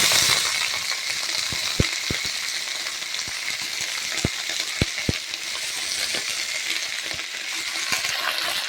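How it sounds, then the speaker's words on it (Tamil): Medicinal herb leaves such as vallarai keerai sautéing in hot oil in a pan for herbal rice balls, a steady close sizzle broken by a few sharp clinks of a spoon against the pan. "இது நல்லா வதங்கணும் இலையுமே போட்டு நம்ம வதக்கிக்கலாம்"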